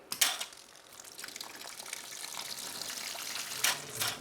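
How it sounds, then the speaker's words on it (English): A jet rig pump line being purged of air while water is let in, giving a steady hiss and gush of water with mechanical clicking and sputtering bursts of air, louder near the start and end. "push that button and hold it until all the air is out of the line."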